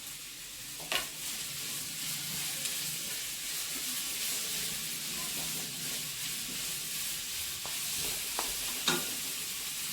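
Capsicum and carrot stir-fry in a hot pan with a continuous, close sizzle. A spatula clicks against the pan a few times as the vegetables are tossed, and no one talks.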